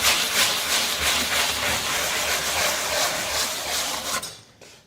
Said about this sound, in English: So now I just sand the part with the raised stencil